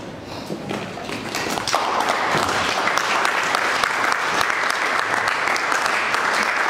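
A church congregation claps in sustained applause, building from scattered claps into a dense, steady roar that holds loud and near to the end.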